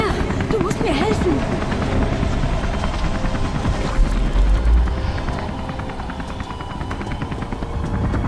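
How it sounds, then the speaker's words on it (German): A helicopter in the video game Beyond: Two Souls gives a loud, steady rotor rumble and drone that continues throughout, with bursts of gunfire-like crackle layered in. "Helikopter! Hol das Ding aus der Luft!"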